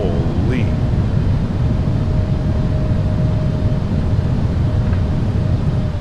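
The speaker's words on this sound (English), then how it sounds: "Reversers are out." A Boeing 777 roars on its thrust reversers during landing rollout in Microsoft Flight Simulator, a loud, steady, broad engine rush that holds for the whole stretch.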